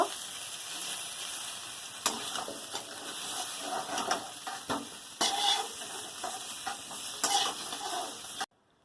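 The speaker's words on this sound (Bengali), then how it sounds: "ফুলকপিগুলো লাল লাল করে উল্টে পাল্টে ভেজে নিয়েছি" Cauliflower florets sizzling steadily in hot oil in a pan, with scraping and clinking as a spatula turns them at irregular moments, close and continuous before stopping abruptly.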